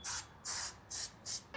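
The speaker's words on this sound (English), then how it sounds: "Spray the cleaner onto the links." Short, close hissing bursts of aerosol chain cleaner hit the links of a motorcycle chain, four quick sprays in a steady rhythm, with a fifth just starting at the end.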